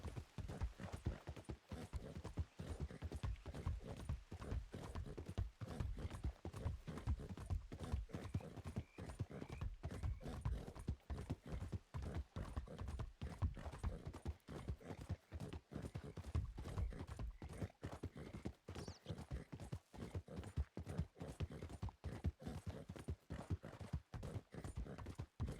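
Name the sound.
horse hooves clip-clopping in video game roleplay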